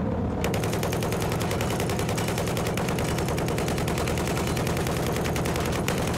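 Sustained automatic gunfire from the PC shooter Battlefield 4, a dense, unbroken rattle of rapid shots at constant high loudness for several seconds.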